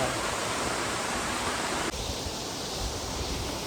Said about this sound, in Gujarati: ભાઈ જુઓ ભાઈ ધોધ જુઓ ભાઈ તમે નહીં જોયો હોય